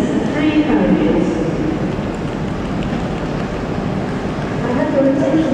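Steady rumbling of a three-carriage diesel passenger train at Leeds, loud and continuous from inside the carriage, with a faint announcement-like voice underneath.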